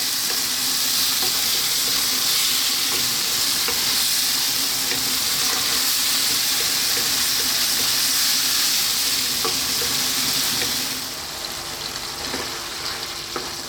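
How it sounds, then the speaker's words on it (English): Tomatoes cook down in a pan for a red kidney bean curry, with a steady close sizzle and frying hiss. Occasional stirring scrapes are heard, and the sizzle eases slightly near the end. "We really want to cook those tomatoes down."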